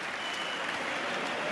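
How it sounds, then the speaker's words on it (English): Dense, steady applause from a crowd at a darts match in Munich, many hands clapping continuously in a large hall, with no distinct voices standing out. "James Richardson, all smiles as he takes the applause of the crowd here in Munich."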